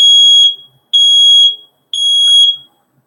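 A smoke alarm sounds during a self test, giving three loud, piercing electronic beeps of about half a second each, evenly spaced, close and alone with no talk.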